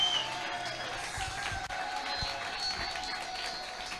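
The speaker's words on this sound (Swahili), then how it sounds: "tutamupokelea na shangwe na vigelegele" A church congregation welcoming its bishop cheers with applause and crowd noise, a steady moderately distant roar of clapping and voices through a large hall.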